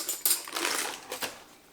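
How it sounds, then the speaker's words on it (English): Metal spoons clinking and rattling as they are picked up in a kitchen where garlic seasoning is being made, a few short bright clatters close by, with no talk. "So let me get some spoons."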